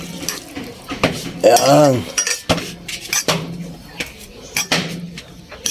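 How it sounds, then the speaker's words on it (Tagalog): A spoon scrapes and clinks against a metal cooking pot while seasonings are stirred into a mixture, in quick uneven strokes, loud and close, with a short spoken word in between. "Halo-haloin lang natin para mag-incorporate lahat ng mga seasoning na nilagay natin dito mga kababayan."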